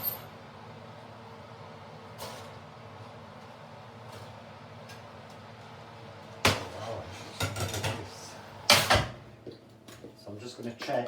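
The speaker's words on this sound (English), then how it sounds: "so I'm just going to bring it out the oven" An oven door opening and a baked Eve's pudding being lifted out, heard as a run of near clunks and clatters of metal and dish after a stretch of steady kitchen hum.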